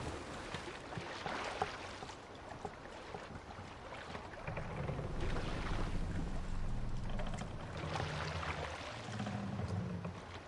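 Viking ship under sail in Assassin's Creed Valhalla, steady rushing water and wind around the hull, with a low rumbling swell building midway, moderately loud and unbroken, with no talking.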